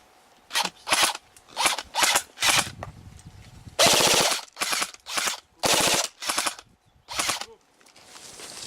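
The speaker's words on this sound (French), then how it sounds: "tu balances des tirs, bille par bille, histoire de les amuser" Single airsoft or paintball shots crack out one at a time outdoors, sharp and fairly close, spaced irregularly with short gaps and one longer burst in the middle.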